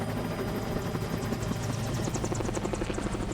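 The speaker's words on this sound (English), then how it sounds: "Oh, look, it's the helicopter from the intro." A helicopter in The Incredibles video game for GameCube, its steady rotor chop loud and continuous throughout, with no voices.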